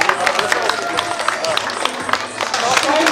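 An audience claps and cheers at a hot chili eating contest in a bar, a dense, lively patter of applause with crowd noise and voices mixed in.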